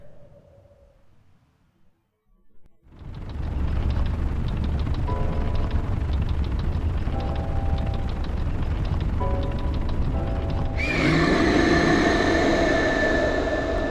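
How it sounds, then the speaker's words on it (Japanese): Divine Beast Vah Medoh, the giant mechanical bird in Zelda: Breath of the Wild, lets out a loud, sustained cry over a rumbling drone that swells after a quiet start and brightens near the end. "メドウの鳴き声と同時になんか、まがまがしい声聞こえたな"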